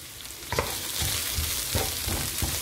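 Chopped onion and garlic sautéing in a pan for chicken cooked in cola, a steady close sizzle with a few louder stirring scrapes at irregular intervals, no talking.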